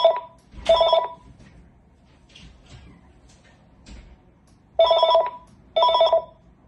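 A phone bought at a thrift store rings in short electronic trilling bursts, two pairs of loud rings separated by quieter handling noises and faint clicks, close up with no speech.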